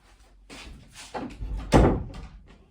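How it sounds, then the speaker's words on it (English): A door is shut indoors with a sequence of shuffling and rattling sounds leading to a solid thud near the end, close and fairly loud. "Alice, can you shut the door, darling?"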